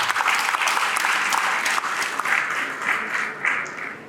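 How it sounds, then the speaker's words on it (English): An audience at a Lagos transportation event applauds after an announcement about the blue rail line, a dense, sustained wash of clapping from many hands, loud and continuous. "I think we deserve a round of applause."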